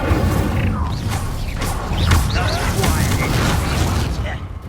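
A fire spell called Incendio is cast in the video game Hogwarts Legacy, giving a loud burst of whooshing, crackling flame with sharp impacts, while a voice speaks over it.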